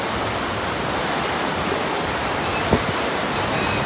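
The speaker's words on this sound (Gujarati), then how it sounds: "આ બધું પાણી છે એ જાય રહ્યું છે, આખી નદી છે" Overflow water from Shetrunji Dam near Palitana rushes down as a whole river, a loud, constant broadband roar with no pauses and no voices.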